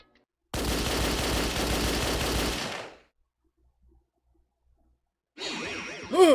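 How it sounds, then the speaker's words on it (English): Machine gun fire from a surveillance camera in the video game Danganronpa Another, a loud continuous burst of rapid gunfire lasting about two seconds, then silence before a second burst with whooshing effects. "The surveillance camera, it has a machine gun attached."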